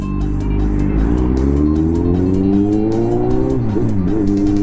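Loud, close car with a cut exhaust, its steady engine drone rising in pitch as it accelerates, then shifting and wavering near the end, with a faint rhythmic ticking above.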